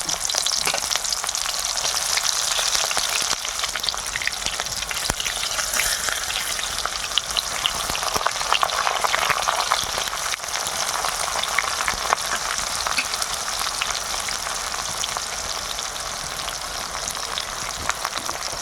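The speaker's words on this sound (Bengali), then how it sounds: "পেঁয়াজ দেওয়া হচ্ছে" Onions sizzle in hot oil with bay leaves and whole garam masala for a village-style chicken curry, giving a dense, continuous frying hiss with occasional stirring, close and steady from start to finish.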